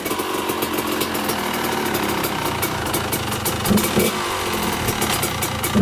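A Kawasaki KDX 200 two-stroke dirt bike engine runs after a cold kick start, a loud, close, rattly buzz that holds steady and swells slightly toward the end.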